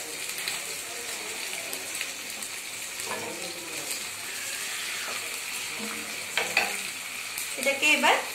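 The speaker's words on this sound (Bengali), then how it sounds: "এটাকে এবার ফ্রাইয়ের জন্য রেখে দেবো" Salted onions fry in a pan while being stirred, a continuous sizzle broken by scraping spatula strokes and louder clattering bursts toward the end.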